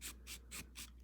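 A rigid sanding block scrapes back and forth across a plastic model kit part, four quick, even rasping strokes close up and fairly faint.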